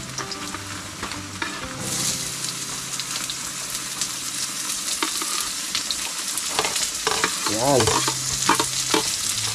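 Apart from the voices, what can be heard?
onions frying and being stirred in a pan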